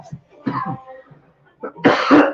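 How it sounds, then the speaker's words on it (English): A few close, harsh coughs burst out, the last one loud and rasping, with brief throaty sounds in between. "I'm working on the volume of my cough."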